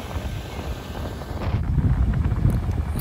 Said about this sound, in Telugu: ఎంత గాలి వస్తుందో మీరే చూడొచ్చు